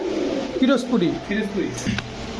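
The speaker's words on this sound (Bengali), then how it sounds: "মিলি মিলি রাজগোল্লা খুবই ইউনিক এবং খুবই সুন্দর একটা কবুতর" A pigeon of the Raj Golla type coos in low, throaty bursts close by, broken by a few brief sharper sounds, while someone talks over it.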